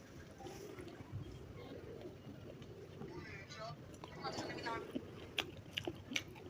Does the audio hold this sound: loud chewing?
yes